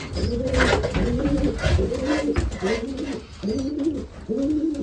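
Racing pigeons in a loft giving repeated low, throaty coos in rolling phrases, close and clear, with soft rustling and faint background noise between calls.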